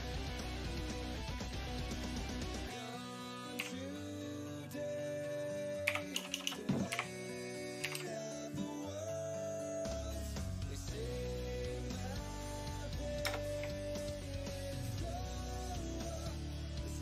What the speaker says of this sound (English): typing up a storm over there